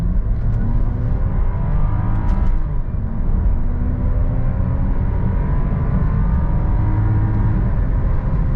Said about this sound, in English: the engine sounds okay, but I thought it was gonna sound a little bit better than that